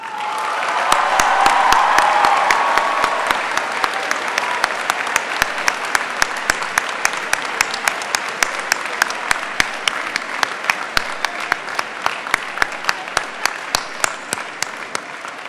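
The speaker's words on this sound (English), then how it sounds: "Please join me in a thunderous applause for the newest Tulaneans." Thunderous applause from a large audience at the Tulane University 2009 convocation, dense and continuous, with a crowd swell early on and sharp individual claps standing out as it carries on.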